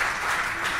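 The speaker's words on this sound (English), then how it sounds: "Thank you for that very much appreciated applause" A brief burst of crowd applause, a dense, even patter of clapping heard for under a second.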